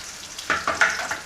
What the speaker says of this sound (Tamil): எண்ணெய் இப்போ சூடாக அப்புறம் வெங்காயத்தை போட்டுருவோம்.